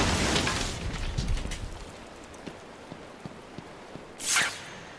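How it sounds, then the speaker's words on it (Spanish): A heavy controlled-explosion blast in Batman: Arkham Asylum rumbles out and fades into scattered crackles and thuds, followed later by a brief whooshing burst. "Explosión controlada."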